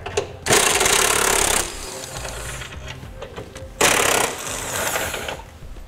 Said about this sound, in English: We'll use a 21 millimeter socket to remove them.